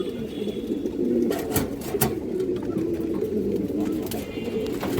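A pigeon coos nearby in a soft, continuous low burble, with a few faint sharp knocks breaking through.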